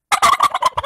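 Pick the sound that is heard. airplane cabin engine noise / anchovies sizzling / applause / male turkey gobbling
male turkey gobbling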